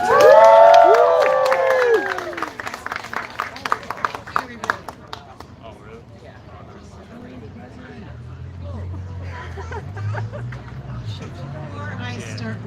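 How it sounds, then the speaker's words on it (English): An audience at an art-class event at Lewis Latimer House greets a guest with loud cheers and whoops, then a stretch of separate, sharp claps that fades into murmuring room chatter and talking. "So, please give a round of applause for Ms. Parsons."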